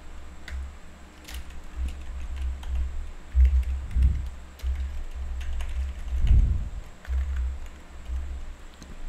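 Computer keyboard typing as a name and email are entered, a steady close run of clicky keystrokes with a couple of heavier thumps, no talking over it.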